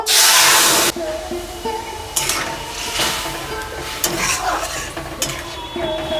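Green mango hits hot oil seasoned with dried chilli and five-spice, giving a loud burst of sizzling, then steady frying crackle with repeated spatula stirs and clinks against the pan.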